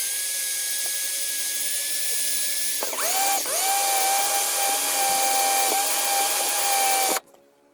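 A hand file scrapes steadily along the metal edge of a loose camera swivel ball head mount, a continuous close rasping with a brief shift partway through before it stops abruptly.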